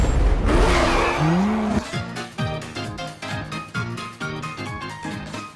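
Cars in a street race from the film Need for Speed: a loud engine roar and screeching tire squeal at first, then pounding rhythmic hits that sound like a driving music score over the racing noise.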